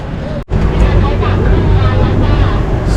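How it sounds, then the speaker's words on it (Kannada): Speedboat engine at Coral Island, Pattaya, a loud steady roar with wind buffeting after a brief dropout at the start, continuous and close. "ಇದು ನಮ್ಮ ಸ್ಪೀಡ್ ಬೋಟ್."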